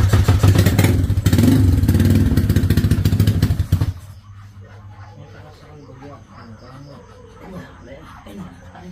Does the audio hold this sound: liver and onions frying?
no